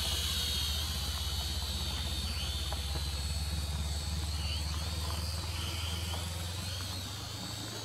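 World Tech Toys Striker Spy Drone rotors running at full throttle, a loud, steady whining buzz with a high-pitched rotor tone that holds constant close to the listener for several seconds.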